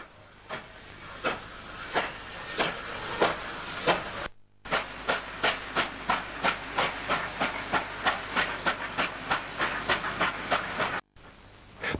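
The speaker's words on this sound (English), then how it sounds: "the same train, after dropping off the pilot loco, lifts the load out of Goulburn" A 38 class steam locomotive hauls a train out of Goulburn, its exhaust beating in sharp rhythmic chuffs that quicken steadily, heard close and loud with hissing steam between beats and brief cuts in the sound.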